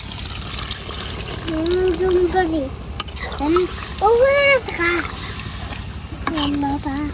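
Water pours into a pot of browned mutton and potato curry, a continuous splashing and filling sound heard under ongoing talk and a voice.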